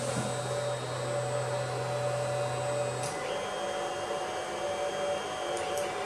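Steady mechanical whirring of an Alfawise U10 3D printer running its first print nearby, with sustained stepper motor tones that shift pitch partway through, no voices.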